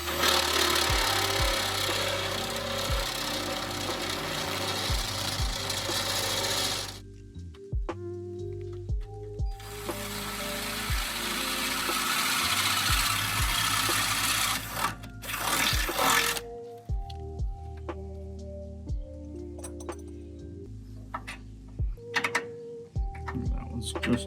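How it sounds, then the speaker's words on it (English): Drill boring a hole for an M10 bolt through a splitter bracket: loud bursts of harsh grinding, each several seconds long, split by short pauses, with someone talking in the quieter gaps. "the next hole you're going to be drilling"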